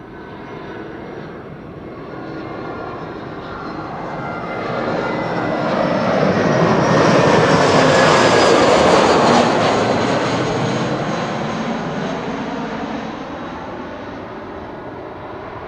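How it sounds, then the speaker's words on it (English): An EasyJet passenger jet arriving from Faro approaches and lands at Amsterdam Schiphol, its engine roar swelling gradually to a loud peak as it passes close, then slowly fading away. "EasyJet flight 27549. Coming in from Faro in Portugal."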